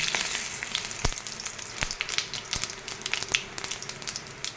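Whole cumin seeds, dried red chillies and two bay leaves crackle and sizzle in hot mustard oil, a steady close frying hiss broken by sharp popping spits, with no voices.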